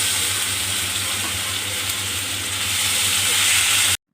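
Ginger-garlic paste and spice mix fry in a pan for vegetarian stuffed pointed gourd, a steady loud sizzle and hiss running without a break until it stops abruptly.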